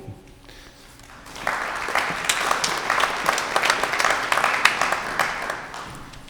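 After a quiet opening, a crowd at a school committee Q&A breaks into steady applause that carries through to the end.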